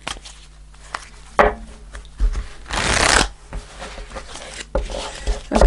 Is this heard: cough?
no